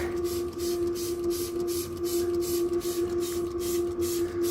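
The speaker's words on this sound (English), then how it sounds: "Spray that down pretty good. Let me get a little better of a mist on that." CRC EvapoRust sprays onto rusty gym equipment in quick rhythmic hissing bursts, close and fairly loud, over a constant steady hum.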